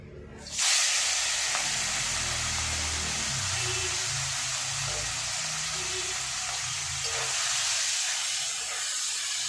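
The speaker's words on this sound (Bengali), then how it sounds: "এবার আমি মাছগুলো ভেজে নেবো" Small fish drop into hot mustard oil in a wok and burst into a loud, steady hissing sizzle that starts abruptly and carries on close up throughout.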